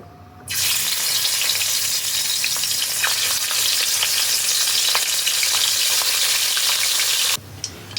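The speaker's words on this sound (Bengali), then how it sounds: "আমি বাকি মাছগুলো ভেজে নেব" Tangra fish fry in hot oil with a loud, dense sizzle that starts abruptly, holds steady with scattered crackles, then stops suddenly near the end.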